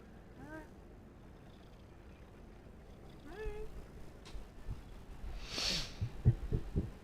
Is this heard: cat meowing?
yes